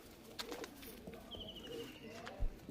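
Pigeons in a loft coo softly with a few faint calls, among light rustles and scattered background noise at low level.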